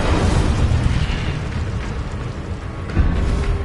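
Fire spell cast in the video game Hogwarts Legacy, a loud, dense whooshing burst of flame and rumble that sustains for several seconds and flares again near the end, with no voices.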